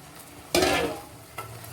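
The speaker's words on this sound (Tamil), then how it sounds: "இப்போ கொஞ்சம் லைட்டாக பிரட்டி விட்டுக்கிடுவோம்." A single brief scrape of rice for biryani being turned in a pan, a soft sizzling swish, followed by a fainter second stir.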